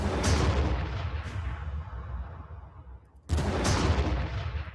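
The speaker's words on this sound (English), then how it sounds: "So that means we can artillery barrage it" Artillery barrage in the Warhammer Armageddon strategy video game: a loud, sustained roar of shelling with two heavy bursts at the start and another sharp onset near the end, deep rumbling throughout and no talk.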